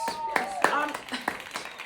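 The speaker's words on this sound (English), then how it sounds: "And let's give her a round of applause." A few separate hand claps, close and sharp, spaced unevenly over a couple of seconds, with a person talking through them.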